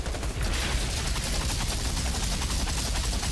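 Rapid, dense firing from the pain launcher weapon in the video game Outriders, a continuous rattling stream of shots at steady loudness with no talk.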